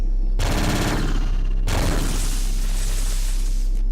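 Sustained automatic gunfire from the video game Future Noir, a dense, loud burst of rapid shots that briefly cuts out before resuming as a continuous heavy roar with no talking.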